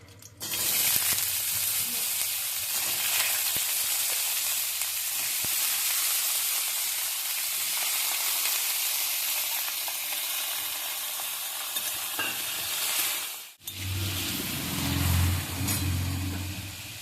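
Small cut potato pieces frying in a pan for a Bengali spinach and poppy seed dish, a loud continuous hiss that drops out briefly and returns, with a low rumble of stirring.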